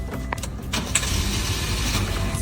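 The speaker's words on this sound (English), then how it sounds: "Okay, now I'll start the car." A car engine cranks and catches while it is being started after a no-start problem is fixed. Brief cranking bursts come first, then a steady engine rumble runs close by and fairly loud, with no talk.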